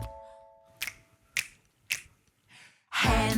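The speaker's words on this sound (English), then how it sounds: "Can you make your fingers go snap, snap, snap?" Crisp finger snaps ring out four times at an even, unhurried pace, close and clear against quiet, and then a burst of music comes in at the end.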